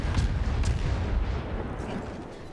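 Warship guns firing at an aircraft carrier in the naval video game World of Warships, continuous heavy rumbling booms and blasts that are loud and dense and then ease slightly toward the end.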